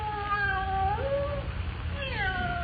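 A cat yowls in a radio drama, giving long wavering caterwauls that rise and fall, with a pause before a second drawn-out cry, over a steady low hum.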